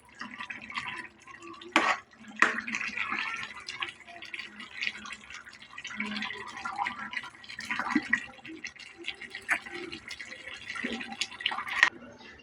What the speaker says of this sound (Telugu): ఇలా తిప్పుకోవాలి ఒకసారి అడుగు అంటకుండా